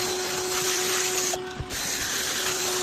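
A drill-powered scrub brush whirs against a car's driver-side seat upholstery with a steady, close mechanical buzz and a whining motor tone, dipping briefly midway before resuming.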